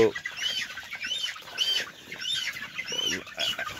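Sonali chickens on a poultry farm cluck and call repeatedly at a moderate distance, with steady farmyard background noise and no talking.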